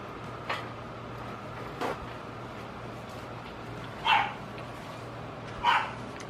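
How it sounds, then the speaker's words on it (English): A dog barks four times in sharp, separate bursts at a moderate distance during a backyard pulled pork barbecue, with a low steady hum underneath and no talking. "Shut up, dog."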